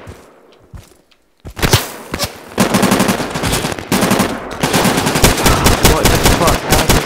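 Heavy automatic gunfire in the tactical shooter Insurgency, long loud bursts of rapid shots starting after a brief quiet stretch and continuing almost unbroken, with footsteps and clatter mixed in.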